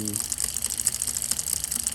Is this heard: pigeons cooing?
no